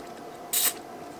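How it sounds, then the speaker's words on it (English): Short aerosol spray onto a mating connector, one brief hissing burst of about a fifth of a second over a quiet background. "we'll give our mating connector a bit of a spray."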